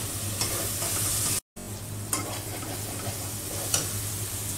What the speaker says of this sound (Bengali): আমি মশলাটা একটু কষিয়ে নেব